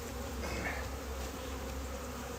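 A steady, dense buzzing of many honey bees close by around a hive, continuous and even throughout with no voices.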